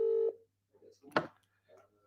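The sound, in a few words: telephone dialing a call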